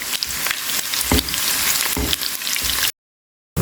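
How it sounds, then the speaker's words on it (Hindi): Steady crackling sizzle of one onion frying golden in hot oil for mutton haleem, loud and close, with occasional pops before cutting to silence. "ऑयल यहाँ पर गर्म हो चुका है, इसमें प्याज डाल दूँगी।"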